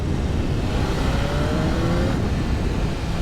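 A 2025 BMW S1000RR M Sport motorcycle with ShiftCam pulls under acceleration on the road, its engine giving a loud, continuous roar that climbs steadily in pitch, close up, with wind noise.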